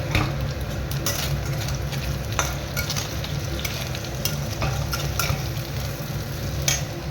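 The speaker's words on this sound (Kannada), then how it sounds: "ಇಲ್ಲಿ ಪನ್ನೀರ್ ಸಬ್ಜಿ, ಪನ್ನೀರ್ ಸ್ವಲ್ಪ ಫ್ರೈ ಮಾಡ್ಕೊತಾ ಇದ್ದೀನಿ" Paneer frying in a pan for a paneer sabzi, with a steady close sizzle broken by occasional sharp scraping clicks of a spatula and no talking.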